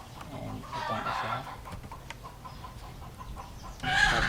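Chickens clucking nearby, with bursts of squawking and clucks over a busy outdoor background, louder at the start and again at the end.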